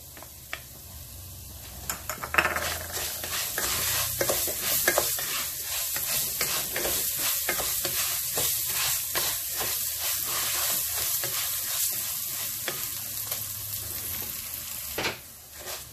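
Onion and garlic frying in a pan with rice while being stirred: a steady close sizzle broken by repeated scraping and clacking of the spoon against the pan throughout.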